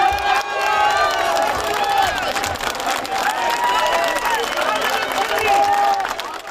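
A crowd gathered outside a cathedral complex claps and calls out as security service cars pull away, a dense, sustained wash of applause mixed with raised voices and talk.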